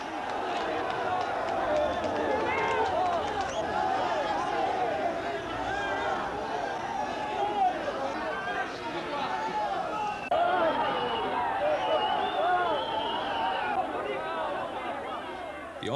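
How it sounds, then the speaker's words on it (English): A crowd in a town square during the Portuguese Carnation Revolution, a dense, loud, continuous roar of shouting voices howling down officers calling for silence, steady throughout with no pauses. "The officers' appeals for silence were howled down by the crowd."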